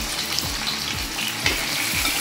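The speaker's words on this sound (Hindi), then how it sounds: "थोड़ा सा इसको फ्राई करूँगी, ज़्यादा नहीं, हल्का चलाऊंगी" Chicken pieces frying in hot oil in a pan for chicken korma, a steady loud sizzle with occasional soft stirring scrapes, close and continuous with no talking.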